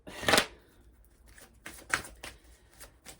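Tarot cards from a Cœur Magique deck shuffled close up: one loud riffling burst, then several softer, quicker card flicks and slides, with no voices.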